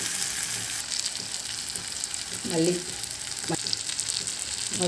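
Food sizzles and crackles steadily in a hot pan while making vathal kuzhambu, with occasional scraping stirs as it is tossed, close and continuous.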